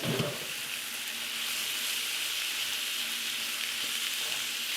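Shrimp hit a hot skillet already holding sweet potato and kale, setting off a loud, close, steady sizzle with a short rustle at the start, and no voices are heard.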